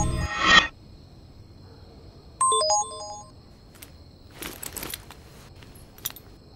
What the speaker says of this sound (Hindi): पर तभी नीना के फोन पे कपिल का मैसेज आया